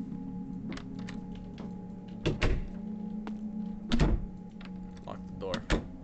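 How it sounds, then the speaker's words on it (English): Door and lock clunks in the horror video game Fears to Fathom: several sharp knocks and thuds at irregular intervals, with a few louder bangs over a low steady hum and faint room noise. "Lock the door."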